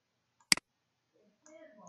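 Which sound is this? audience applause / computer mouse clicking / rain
computer mouse clicking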